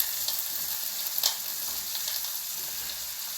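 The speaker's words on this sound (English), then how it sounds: "Let's put the onions in. Oh, now we got a nice sizzle." Onions hiss in a hot pan next to a pork shoulder blade steak, a steady bright sizzle close by with one brief louder crackle, no voices over it.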